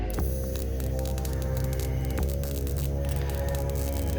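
Welding on the body of a 1948 Dodge gasser, a steady buzzing hum with crackling static running continuously, close and fairly loud, with a brief break midway.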